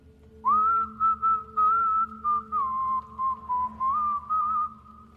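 A man whistles a wavering, melodic tune in a run of phrased bursts, close and clear over a low steady hum, as an eerie effect in a horror story.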